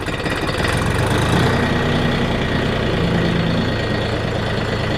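DTZ 354U tractor engine running steadily and close as the tractor pulls away, a continuous low diesel rumble with a mechanical knock, no talk over it.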